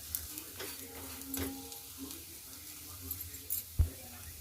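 Parathas frying in a little ghee in a pan on low heat, a soft, continuous sizzle with a few scrapes and stirs. A quiet voice speaks faintly in the background.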